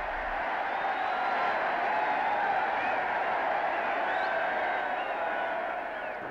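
Large crowds outside Buckingham Palace cheering Queen Elizabeth II on the balcony, a steady distant roar of many voices that holds throughout.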